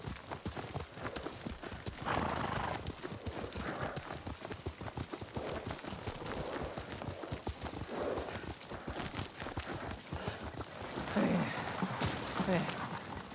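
A horse gallops in the video game Ghost of Tsushima, a rapid, steady clip-clop of hooves running throughout, close by, with brief snorts and spoken dialogue over it.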